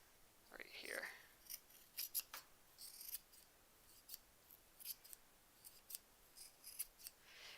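Scissors snip through fabric scraps in a quiet crafting setting, a series of faint, short crisp cuts at irregular intervals, with a brief soft voice near the start.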